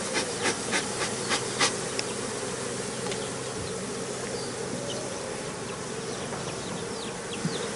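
Dense swarm of honeybees buzzing steadily and close while hive frames are shaken free of bees after honey extraction, a continuous droning hum with a few sharp bursts near the start.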